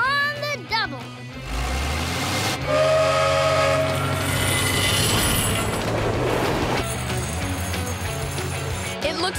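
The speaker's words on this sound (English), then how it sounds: "Here comes the train." A train rushes past in a PAW Patrol cartoon, with a steam whistle blast, a loud hissing rumble and clattering, and mixed with music and character voices.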